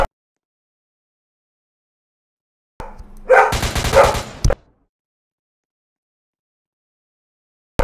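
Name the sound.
dog barking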